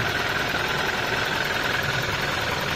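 A 2001 Toyota All New Corolla SEG engine running steadily, a continuous even hum and whir heard close up at a constant level with no voices.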